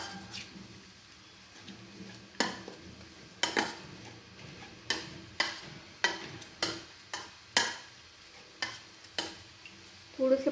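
Spinach being stirred and pushed around a frying pan with a spoon, giving a steady run of regular scraping strokes against the metal over a faint sizzle, close and fairly quiet.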